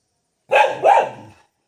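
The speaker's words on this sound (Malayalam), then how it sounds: "വല്ലോടത്തും വല്ല പട്ടികളും കുരയ്ക്കണേ" Dogs give two close barks, loud and near, with no talk over them.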